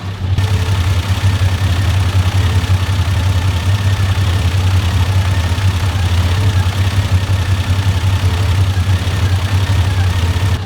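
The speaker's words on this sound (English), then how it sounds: "I can also hear like almost like tappets." A roughly thirty-year-old project car idles with its engine rumbling steadily and loudly up close, a faint ticking of tappets riding over the low drone throughout, with no voices.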